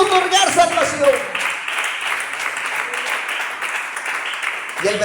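Steady applause from a crowd at a prison evangelism service, dense clapping filling the background throughout, with a voice speaking briefly at the start and end.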